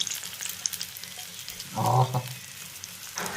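Mustard seed tempering for a Kerala sadya beetroot pachadi sizzles hot in oil, a crackling fry with a louder burst of bubbling partway through, heard close with no talking.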